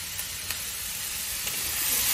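Onions and chilies sizzle as they are tempered in a hot pan, a steady broad hiss that grows slightly louder over a couple of seconds, with faint clicks and no talking.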